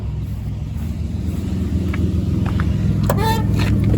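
A 1998 Oldsmobile 88 with a plugged catalytic converter idles nearby with a steady low engine rumble, while a faint short voice rises over it near the end.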